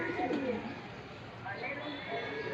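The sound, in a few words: homing pigeons cooing at a loft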